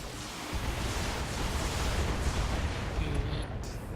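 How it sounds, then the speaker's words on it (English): Mechs open fire in the video game BattleTech, producing a dense, continuous rumble of blasts and booming impacts at steady loudness. "All weapons, fire."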